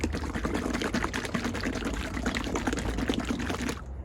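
Liquid wax being poured for protecting the paintwork of a 17-year-old car, a steady continuous pouring and trickling that runs loud and close for several seconds, then cuts off abruptly near the end.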